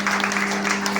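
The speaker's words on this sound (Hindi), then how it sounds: "जोर से ताली बजाओ" Loud, steady clapping from a crowd of women gathered in a temple in Alwar for a Shiv Katha religious discourse, sustained throughout with a faint hum beneath.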